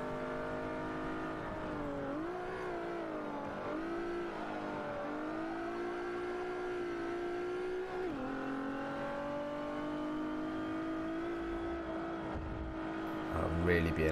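Racing engines, including a Mazda RX-7, drone in a video game race, with a steady high whine that dips and climbs through gear shifts and revs. A voice talks over the engines throughout, and a harsh burst of noise comes near the end.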